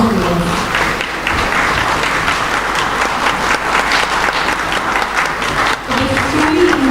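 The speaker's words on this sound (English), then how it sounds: "grace the arrival of our respected dignitaries with a huge round of applause" A large audience at the inaugural session of an international healthcare conference gives sustained, even applause for arriving dignitaries, a continuous dense clatter of clapping hands.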